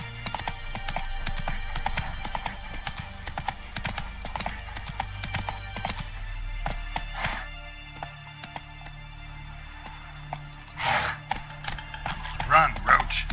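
Roach, Geralt's horse in The Witcher 3 Next-Gen Edition, gallops with steady, rapid hoofbeats throughout, joined by a brief whinny, while a voice talks over the in-game sounds.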